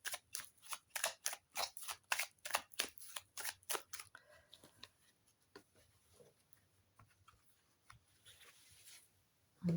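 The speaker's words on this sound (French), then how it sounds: "Donc il y a 52 cartes. Donc on va les mélanger." A deck of 52 oracle cards is shuffled, producing a quick run of soft, crisp riffling snaps for about four seconds, then scattered quiet rustles and taps at a low, close level.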